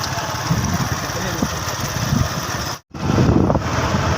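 A heavily loaded Massey Ferguson 240 tractor engine runs with a steady, loud, rumbling drone that briefly drops out, then returns just as strong.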